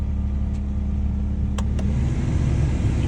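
A car's blower motor runs after being smacked into action, giving a steady close whirring hum with a low droning rumble that holds level throughout, with a couple of faint brief clicks.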